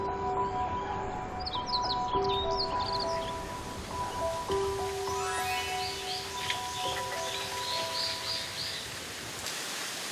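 Birds chirp and trill in a forest beside a small mountain hermitage, several bright calls scattered over a soft steady rush of wind, with a rising sweep midway; no one speaks.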